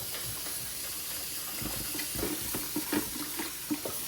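Quiet running water from a sink sprayer rinses Frigidaire ice maker parts, a steady hiss and splash with faint clinks of plastic pieces being handled.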